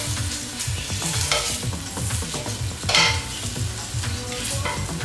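Lamb knuckles sear in a pot of hot ghee, a dense loud sizzle with continual scraping and clattering as the meat is stirred and turned, nearby and without talk.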